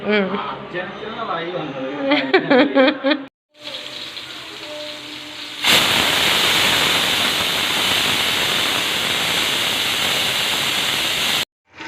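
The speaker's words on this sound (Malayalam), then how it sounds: "അപ്പം നമ്മുടെ കുക്കറിൽ നിന്ന് വിസിലൊക്കെ വന്നിട്ടുണ്ട്" A home kitchen pressure cooker cooking beef curry lets off a loud, steady hissing steam whistle that runs for several seconds after someone speaks briefly.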